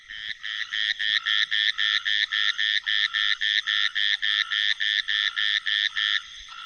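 An Indian grassland frog with black vocal sacs calls in a fast, regular series of about twenty loud, near croaking pulses, alone and clear against a quiet background.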